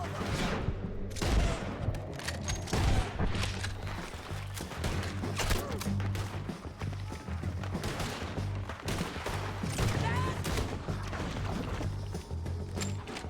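Rapid gunfire crackles through a Red Dead Redemption 2 firefight, dense overlapping shots and impacts filling the scene with steady intensity from start to finish, no voices over it.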